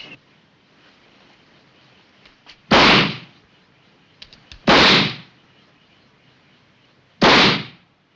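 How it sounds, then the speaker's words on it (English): Three sharp gunshots in a 1961 British horror film, each a loud isolated crack spaced about two seconds apart against near silence. "fire 3 bullets into the image"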